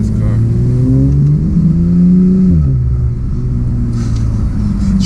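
A tuned Porsche 911 Turbo engine growls and revs up and down, loud and close, with a deep throaty rumble throughout.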